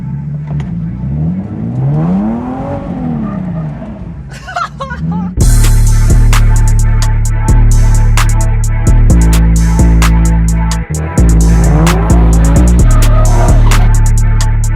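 Nissan 370Z Nismo with traction control switched off spins its wheels: a quieter engine hum rises and falls, then from about five seconds a loud, sustained high-revving roar with rapid pulsing bursts holds steady near the microphone.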